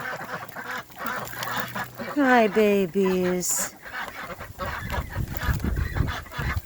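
Ducks honk and quack loudly at close range around a duck house freshly filled with bedding before cold weather, a run of rising calls in the middle, while someone speaks softly over them.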